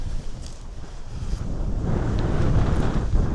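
Strong wind blows at a rocky campsite in a coastal archipelago, buffeting the microphone in heavy, rumbling gusts that grow louder toward the end, with no voices.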